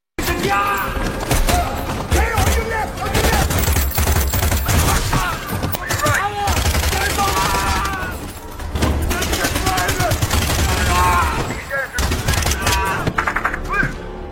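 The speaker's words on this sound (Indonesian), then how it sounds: "terjadilah baku tembak antara kelompok teroris dan pasukan khusus" Gunfight between terrorists and special forces in the 2023 action film Black Lotus: dense, loud bursts of rapid gunfire and thuds roll on almost continuously, with voices talking over the shooting.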